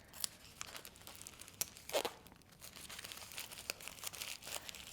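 Tape being torn and crinkled while building a simple armature for an air-drying clay rhino sculpture, quiet close rips and crinkles in short irregular bursts, with one louder tear near the middle.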